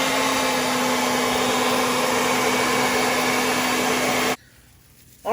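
A heat tool dries a chemical patina on copper, a loud, steady blowing roar with a constant whine that cuts off sharply near the end before briefly starting again.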